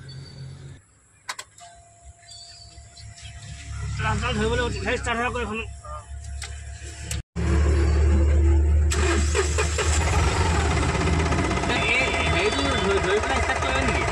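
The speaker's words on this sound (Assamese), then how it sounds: "এতিয়া আমি ষ্টাৰ্ট দিম" Tata Ace Gold diesel engine with a crankshaft position sensor circuit fault cranking and starting up close, settling into a loud, steady rumbling idle, with people talking nearby before and during the start.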